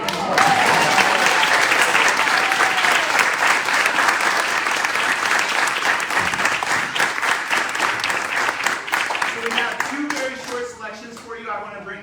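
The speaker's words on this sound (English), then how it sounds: "So give them a round of applause." An audience at a festive Christmas concert with a homeschool band bursts into sustained, dense applause that fills the room and slowly thins, and a voice begins speaking as the clapping fades.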